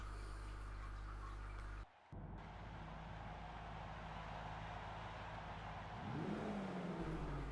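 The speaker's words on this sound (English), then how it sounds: "the first thing you are greeted with is the sound of the V8 under the hood" A steady, rumbling 1960s Chevy Nova V8 in the video game Forza 5 idles loudly with a brief cutout, then revs up near the end with a rising whine.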